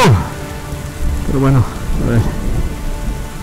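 Heavy rain falls steadily and loudly around a motorcycle traveler in Peru, a dense continuous hiss, while a person speaks briefly over it.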